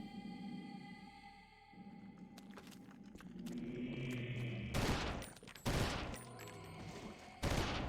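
Gunfire in the Eternal Darkness video game: sharp, loud gunshot bursts arriving in the second half over tonal ambient music and drones, with a final shot near the end.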